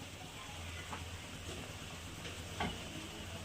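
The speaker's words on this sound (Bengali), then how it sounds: "একটু কালো জিরে ফোড়ন দিলাম" Nigella seeds sizzle in hot oil while a pabda fish curry with mustard and poppy seed is made, giving a steady, faint crackling fry with a few small pops.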